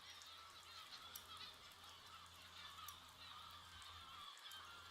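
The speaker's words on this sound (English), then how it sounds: "these birds are getting to me. I gotta turn the birds off" Bird calls from a video game during a castle siege, honking goose-like cries repeating over a steady background ambience, fairly faint and continuous.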